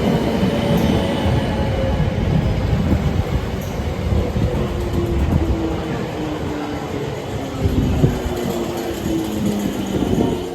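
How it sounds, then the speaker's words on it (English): Class 455 electric train running into a station on the line back to Waterloo, a loud continuous rumble of wheels on rails with a rising motor whine and faint squeal as it draws in close, no talking. "we're going back to Waterloo on the train that will form the last train,"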